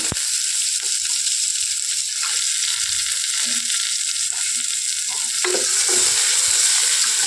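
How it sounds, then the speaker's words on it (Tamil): Small onions (shallots) sauté in a pan for a sambar with oats, making a steady close sizzle with occasional stirring scrapes and pops throughout, no talking. "நல்லா வதங்கட்டும் சின்ன வெங்காயம்"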